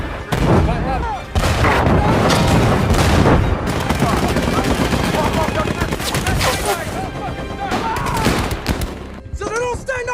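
A war film battle with a tank: machine-gun fusillades and heavy tank rounds burst in dense, loud volleys throughout, with shouted voices mixed in among the blasts.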